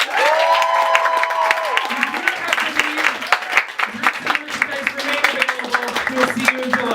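Audience at a literary salon show clapping and cheering, a ragged crowd applause under a voice speaking and calling out over it, rising and falling across the whole stretch.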